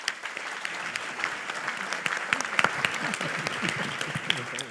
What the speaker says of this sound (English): Let's please have a round of applause for our panel.